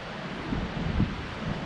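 Gale-force wind around 28 knots gusting into the upper 30s roars through trees near Buzzards Bay, a dense steady rushing with rumbling buffets on the microphone, loud and continuous.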